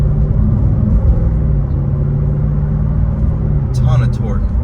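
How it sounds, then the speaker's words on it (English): A Jaguar F-Type R's exhaust rumbles low and steady while cruising near 1200 RPM in dynamic mode, a continuous deep drone from inside the car with road noise, with a person talking over it. "We're in dynamic mode, so the exhaust is going to be pretty loud, just rolling around 1200 RPM"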